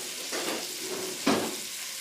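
Vegetables sizzle steadily in hot bacon fat in a pan, a close continuous frying hiss broken by a brief scrape as a spoon stirs them.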